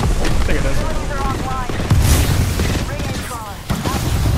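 Repeated grenade blasts mix with gunfire in Apex Legends, heavy rumbling booms and crackling shots layered under someone talking steadily throughout.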